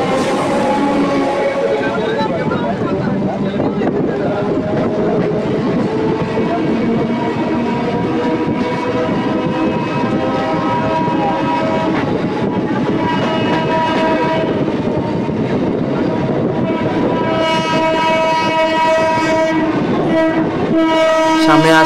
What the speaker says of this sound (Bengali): আমাদের ট্রেন এখন কোন্নগর ছেড়ে দিয়েছে